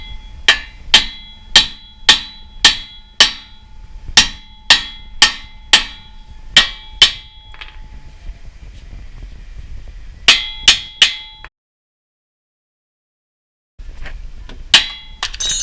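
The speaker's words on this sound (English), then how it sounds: "get yourself a big hammer and just smack it a few times." A big hammer smacks a stuck steering tie rod end on a Toyota Corolla rack and pinion, landing a long run of sharp, ringing metallic blows in steady rhythm, then a pause, a short burst of three more strikes, silence and further hits.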